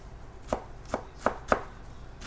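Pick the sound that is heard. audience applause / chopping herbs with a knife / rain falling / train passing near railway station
chopping herbs with a knife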